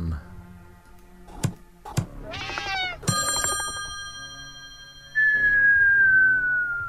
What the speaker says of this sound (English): How the hell do I scare that one cat?